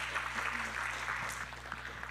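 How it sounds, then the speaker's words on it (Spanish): Congregation applauding the Lord at an evangelical church service, a steady wash of clapping throughout at moderate level with a low hum underneath. "Dele ese aplauso fuerte al Señor."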